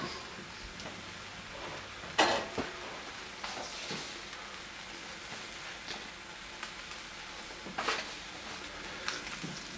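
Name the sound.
olive oil added to hot pan, frying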